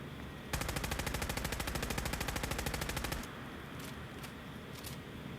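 Combat rifle in Fallout 4 firing on full auto at a boosted rate, a loud, rapid, steady stream of shots lasting about three seconds, then cutting off into quieter game background with a few faint clicks.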